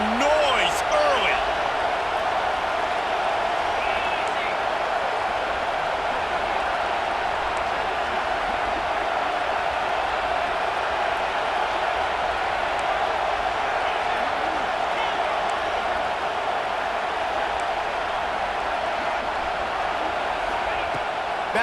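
A stadium crowd at an Auburn vs Duke college football game keeps up a continuous, dense roar for over twenty seconds, with a commentator talking over it.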